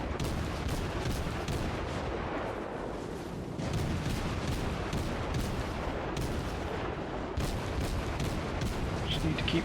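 Steady barrage of naval gunfire from German tier-three cruisers in World of Warships, dense rumbling booms and cracks repeating without pause over a continuous battle din, loud and close throughout.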